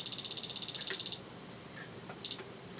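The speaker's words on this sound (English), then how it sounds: "let me set the timer for 20 minutes." A kitchen-style digital timer being set gives a quick run of about ten rapid beeps, then a single short beep a moment later, close and clear.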